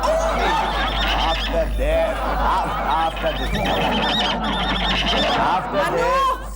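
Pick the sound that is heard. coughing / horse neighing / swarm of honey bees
horse neighing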